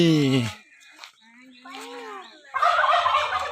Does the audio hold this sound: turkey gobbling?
yes